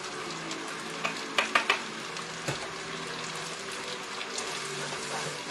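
Shrimp being stirred into a spaghetti sauce with mushrooms in a pan, giving a soft steady sizzle with a few sharp scraping clicks of the utensil against the pan in the first half.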